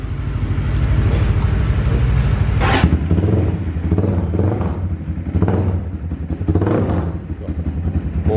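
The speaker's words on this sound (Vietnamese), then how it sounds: "Mình sẽ nổ máy cho anh em nghe thử ha." A mid-range 250–650cc big-bike motorcycle, nearly new with low mileage, starts up and idles with a steady loud rumble, with sharp blips of revving from its loud exhaust recurring throughout.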